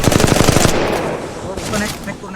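Automatic gunfire in the Valorant video game, a rapid burst of loud shots in quick succession, then a decaying echo, with a voice talking over it.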